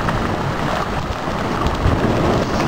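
Heavy spring storm downpour, the first good one of the 2013 spring season, rain pouring steadily as a dense, constant roar throughout, loud and close, with no voices.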